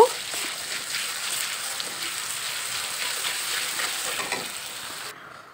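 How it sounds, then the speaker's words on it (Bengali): Chopped small onions and garlic paste fry in a pan with a steady, close, even sizzle that runs unbroken before stopping abruptly at the end. "এই যে দেখো আমাদের পেঁয়াজ আর রসুন কত সুন্দরভাবে ভাজা হয়ে গেছে লাল লাল করে"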